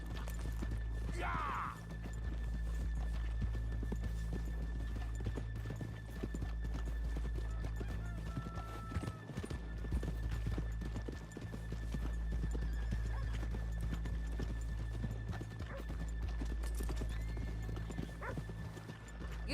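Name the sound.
horses trotting in video game Red Dead Redemption 2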